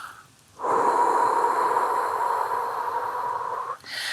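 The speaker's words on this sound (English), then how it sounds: "exhaling through those pursed lips like you're blowing out that candle for 4" Pursed-lip breathing: one long, steady, breathy exhale lasting about three seconds, close and clear, framed by quieter breaths through the nose before and after.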